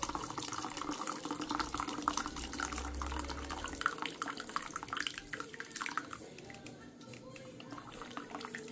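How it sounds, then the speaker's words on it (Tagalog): Hot water pours into a cup, making a steady splashing, trickling stream up close, with a voice talking over it. "Tapos bubuhusan natin ng water. Mainit."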